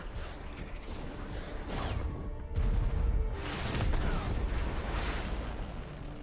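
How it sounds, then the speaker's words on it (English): A missile launches from a target with a loud, rumbling, broadband roar that swells in several surging bursts and then sustains a heavy blast-like rush throughout. "We have a confirmed launch from target 5."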